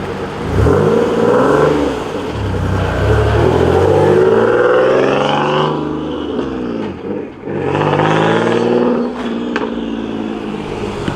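A turbocharged Nissan 370Z Nismo sports car accelerates hard, its engine revving loud and close through climbing pitch sweeps, with brief dips between gear changes as the driver struggles with the clutch.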